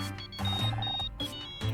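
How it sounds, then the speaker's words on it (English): A phone rings in the Murder by Numbers video game, a bright electronic tone pattern repeating in short bursts over game music, fairly loud and without speech. "That's my phone."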